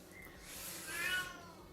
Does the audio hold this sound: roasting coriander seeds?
no